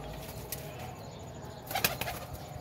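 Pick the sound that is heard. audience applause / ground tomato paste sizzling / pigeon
pigeon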